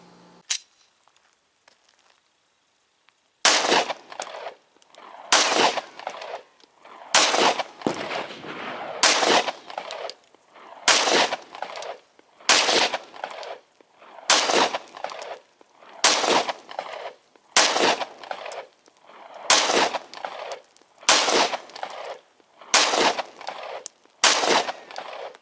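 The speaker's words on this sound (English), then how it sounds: "We can go ahead and roll a little bit of shooting footage in right now" Glock 19 Gen4 pistol fired at a shooting range, a steady series of loud, sharp single shots spaced about a second or two apart after a brief quiet start.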